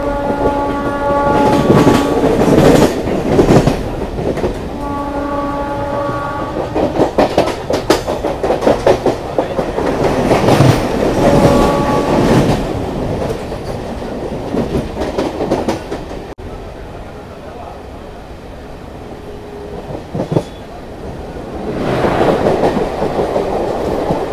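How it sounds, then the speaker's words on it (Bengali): A local train on the Howrah to Purulia line rumbles past close by with rhythmic clickety-clack of wheels and several loud horn blasts, then fades and returns. "আর বাইরে যদি দেখায় তোমাদেরকে অলরেডি লোকাল ট্রেন আমাদের যাচ্ছে"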